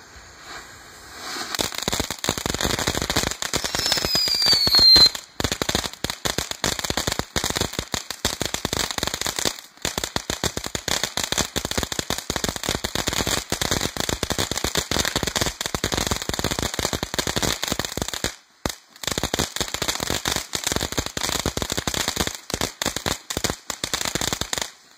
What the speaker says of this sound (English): Backyard Fountain Silver, large.